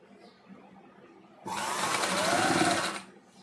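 A sewing machine stitches a blouse seam in one fast continuous run of about a second and a half, close and loud, between quiet pauses.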